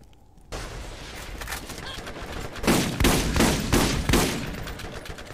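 Shotgun blasts in the video game Borderlands: a short burst of loud, booming shots in quick succession after a low rumbling background.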